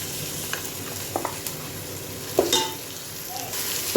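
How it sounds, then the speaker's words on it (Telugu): Biryani masala fries in a pan as chicken biryani with fresh coconut milk is cooked: a steady low sizzle with a few stirring scrapes and clicks, close and moderately quiet, with no talking. "మసాలా కూడా వేసి వేపుకుందాం."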